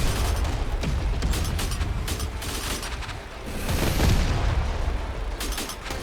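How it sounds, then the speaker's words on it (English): Rapid, heavy rocket blasts pound away from an MLR launcher firing at turrets in the mech combat game Mech Havoc, a dense, loud barrage of booms and mechanical rumble with no pauses. "It takes 2 full blasts of the MLR system to take one of those turrets out."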